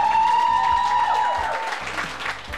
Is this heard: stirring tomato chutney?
no